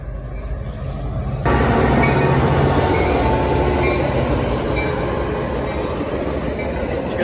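A train thunders past close by, a loud sustained roar of wheels on rails with squealing metal, rising abruptly and staying heavy.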